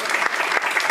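Audience at a school board candidates forum breaks into applause, a dense continuous patter of clapping heard briefly at fairly close range with no voices over it.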